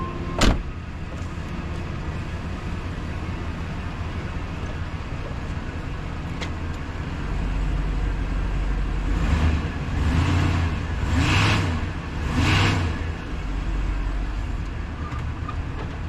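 A damaged Chevrolet Suburban is driven, its engine and road noise a steady low rumble from inside the cabin, swelling in a few broad surges toward the end, with no talking.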